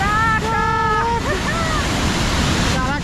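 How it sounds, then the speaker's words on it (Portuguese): Glacier meltwater from Europe's largest continental glacier rushing under a bridge, a loud, steady roaring torrent, with voices talking briefly over the water. "Olha isso, a pressão da água."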